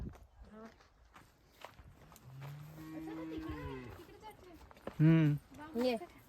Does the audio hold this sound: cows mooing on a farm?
yes